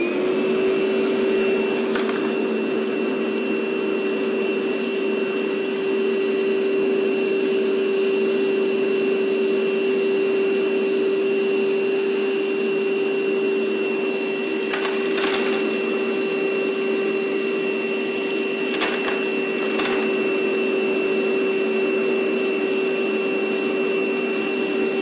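DeWalt DCV580H battery-powered vacuum running continuously with a steady high motor whine, close and loud, with occasional rattling clicks of debris being sucked up, and no talk.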